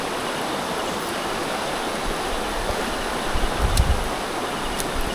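Strong wind sweeps steadily across a campsite, a continuous broadband roar with no voices, swelling into slightly louder gusts near the end.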